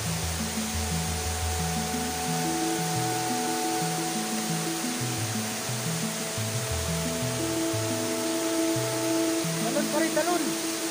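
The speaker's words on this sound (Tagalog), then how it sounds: "Talon pa rin, talon." Kandungos Falls roars as a steady, broad rush of falling water that fills the whole stretch, with faint voices and other sounds partly buried beneath it.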